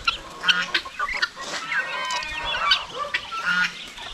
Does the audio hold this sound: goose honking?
yes